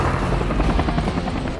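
Helicopter rotor thudding loudly and steadily in an action movie scene, with a dense, continuous chop that holds close throughout before cutting off abruptly.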